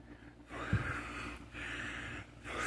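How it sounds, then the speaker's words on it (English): Heavy breathing, close and loud: slow, deep, airy inhales and exhales in a steady rhythm, three long breaths with no talking. "I just do these heavy breaths"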